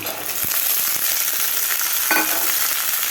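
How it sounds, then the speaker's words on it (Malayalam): Onion and green chilli sauté with mustard seeds in hot oil, a close, steady sizzle with light stirring scrapes and a few crackles throughout. "സവാള കടുകിനകത്തിട്ട് സവാളയും പച്ചമുളകും കൂടെ ഇട്ട് വഴറ്റണം"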